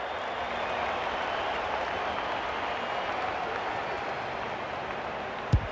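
A football stadium crowd reacts during a Sydney versus Hawks match with a broad, sustained roar and applause that holds steady, and a brief sharp knock near the end.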